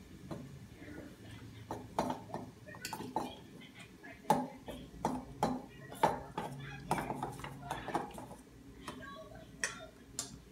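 A spoon clinks and scrapes steadily against a bowl while mixing trifle ingredients, close and fairly quiet, with irregular taps and scrapes spread through the clip.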